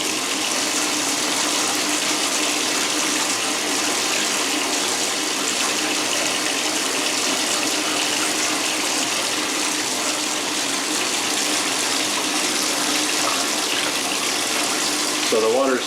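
Steady broadband rush of shower water pouring into a tub with a slow drain, continuous and fairly loud throughout, with a faint voice briefly near the end.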